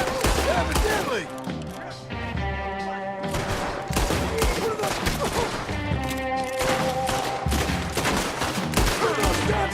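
Gunfire from a Red Dead Redemption 2 shootout, with rapid volleys of shots and thuds cracking out in dense, overlapping bursts over a musical score, loud and continuous throughout.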